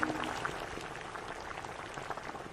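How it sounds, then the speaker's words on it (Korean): A pot of ramen noodles boils steadily, with dense bubbling and popping at a moderate, close level and no speech. "보글보글 라면 끓는 소리와 함께"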